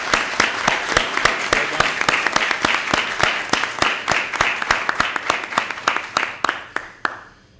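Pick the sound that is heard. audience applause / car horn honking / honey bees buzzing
audience applause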